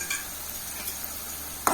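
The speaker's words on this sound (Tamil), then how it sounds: "சின்ன வெங்காயம் நல்லா வணங்கி வரணும்" Shallots sautéing with a little salt in a pan for South Indian chicken gravy give a steady soft sizzle with light stirring scrapes, ending in a brief louder clatter of the spoon against the pan.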